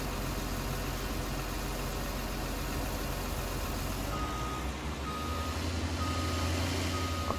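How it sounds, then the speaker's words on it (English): Truck reversing alarm in Farming Simulator 19, a regular repeating beep over a low idling engine rumble, steady and fairly loud for the whole stretch. "I can literally hear beeping in game and beeping outside."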